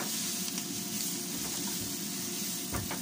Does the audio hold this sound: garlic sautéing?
yes